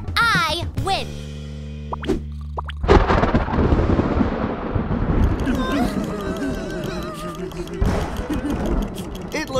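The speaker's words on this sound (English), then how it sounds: "It's a thunderstorm." A cartoon thunderstorm rumbles and cracks loudly, booming thunder that swells and fades behind a voice and other cartoon speech.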